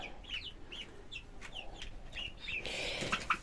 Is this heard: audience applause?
no